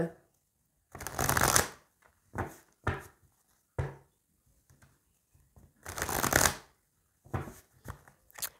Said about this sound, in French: On va également aller voir à la coupe vos énergies dominantes.